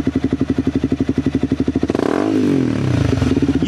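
A sportbike motorcycle idles with a pulsing, throbbing exhaust, then the throttle is squeezed and the engine rises in pitch as it pulls away, loud and close on a mountain highway.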